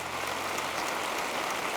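Steady, faint wash of applause from an awards show audience, a dense hiss of many hands clapping at a distance with no distinct individual claps.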